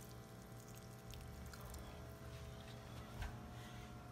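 Water poured onto potted pothos and celery plants indoors, a faint continuous trickling and splashing with a small bump near the end, quiet and close.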